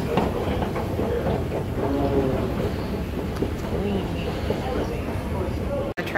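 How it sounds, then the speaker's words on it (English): A MARTA train in Atlanta rumbles steadily nearby, a continuous low roar with faint rhythmic clatter from the rails lasting the whole clip. "The train."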